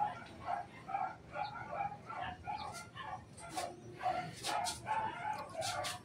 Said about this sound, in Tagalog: May dumaan siguro aso